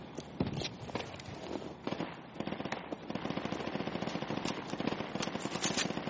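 Rapid machine gun bursts crackle through a military shooter game, dense overlapping volleys of gunfire near and far, with sharp single shots punctuating the steady rattle across the whole stretch.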